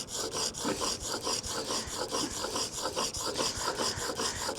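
A chisel worked back and forth on a 400 grit sharpening stone on site, giving a steady rhythmic rasping scrape with quick regular strokes, close and moderately loud.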